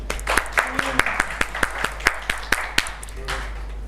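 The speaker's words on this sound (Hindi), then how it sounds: "तालियां लगाएं इसके लिए।" A small group claps at a confidence-building workshop, producing sparse, distinct hand claps in an uneven rhythm rather than a full ovation, with a faint murmur of voices underneath.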